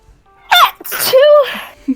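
A person gives one loud, close sneeze with a sharp intake and explosive burst, followed by a brief trailing vocal sound.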